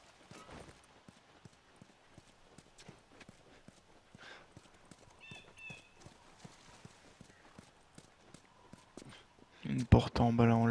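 A horse clip-clops at a walk in The Last of Us, with steady, close hooves throughout and someone talking over them. A louder burst comes near the end.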